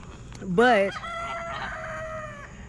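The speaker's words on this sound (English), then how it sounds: "He is a crowing away." A rooster named Rex crows once nearby, a strained, rising-then-held call that trails off in a long wavering tone, with faint background hiss.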